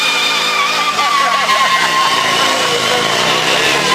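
Buell motorcycle held at full throttle with its rear wheel spinning, a loud high-revving engine whine with tyre scrub, sustained and close throughout.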